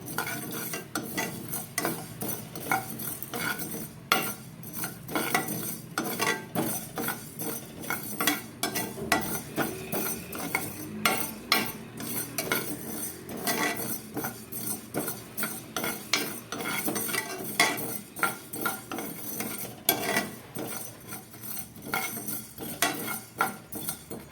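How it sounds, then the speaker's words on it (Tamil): A utensil stirs and scrapes steadily around a pan, with constant clinking and a faint sizzle of mustard seeds dry-roasting underneath. No voices. "போட்டு நல்லா பொன்னிறமாக வறுத்துக்கலாம்."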